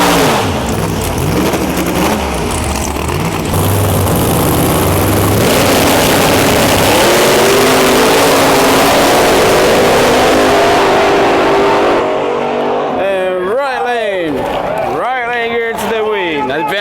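Small tire drag race cars launch and roar down the strip at full throttle, a loud dense engine blast that fades before revving whines trail off, with an announcer talking over it.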